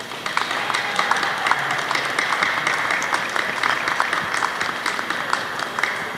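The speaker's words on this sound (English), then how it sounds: "Let's give them a round of applause." An audience at a Black Caucus forum applauds the governors, a close, lively burst of many hands clapping with crisp individual claps throughout.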